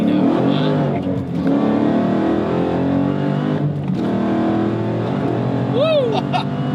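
An 800-horsepower Dodge Hellcat Challenger accelerates hard in first gear, its loud engine roaring steadily close by, with people talking over it and a tire squeal or whoop rising near the end.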